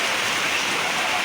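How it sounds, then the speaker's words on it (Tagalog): Heavy rain pouring steadily during a typhoon, a dense, continuous hiss of drops falling close by with no break. "Lumalakas na naman ang ulan."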